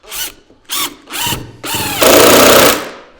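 A power drill driving deck screws into wood, several short whirring bursts followed by a longer sustained drive, loud and close with no talking.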